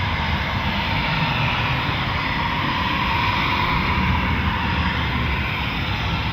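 A Eurofighter Typhoon FGR4 jet at RAF Coningsby makes a performance departure, a continuous loud, broad engine roar filling the air at close range with no talk.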